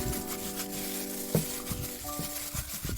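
Meatballs fry in a generous amount of cooking oil in a pan, giving a continuous crackling sizzle with small pops and occasional stirring knocks, close up and steady.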